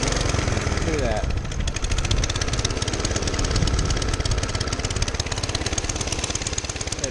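A 1947 Whizzer motorbike engine, freshly given a top-end rebuild, idles steadily and loudly up close, with a fast even chugging beat that runs unbroken and a voice talking over it.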